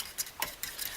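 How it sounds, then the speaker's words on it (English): A fork whips a mixture of coconut oil, cream cheese and butter in a bowl, giving a few faint, quick scraping and clicking strokes spaced unevenly across a second. "see if we can kind of whip it up a little bit better with the fork"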